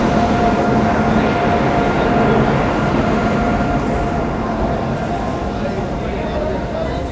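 A steady, loud rumble of an idling WAP7 electric locomotive and train at a station as it is coupled to the Visakhapatnam Swarna Jayanti Express, continuous throughout with no distinct clanks.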